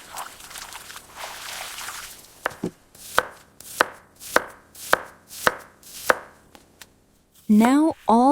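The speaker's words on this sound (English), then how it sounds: "Now all the vegetables and spices are carefully chopped and prepared." Vegetables and spices are chopped by hand on a board in a miniature village kitchen: a run of sharp, evenly spaced knife strikes, close and clear, with rustling before and a brief scrape at the end.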